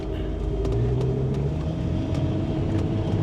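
An AMC Gremlin X on the move, its engine holding a steady low drone with a faint rising tone beneath continuous road and wind noise, heard from inside the car with nobody talking.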